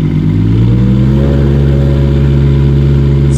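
Engine of a 1.2 ton excavator rising in pitch as throttle is added during a lift, a loud close droning rumble with steady harmonic tone that climbs then holds high and continuous.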